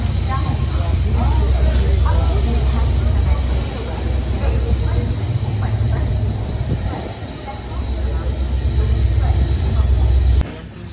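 The 12780 Goa Express rumbles and rattles continuously along the Miraj to Vasco line in the monsoon, heard from inside with voices talking over the loud, steady rolling noise.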